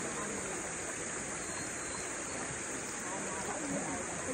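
Steady river water rushing and flowing during laundry washing by hand in a river, a continuous broadband roar without pause, close and fairly loud throughout.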